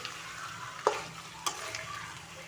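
Chicken tossed with masala being stirred in a pan, a steady soft frying hiss with two sharper scrape or clatter hits from the spoon, no talking.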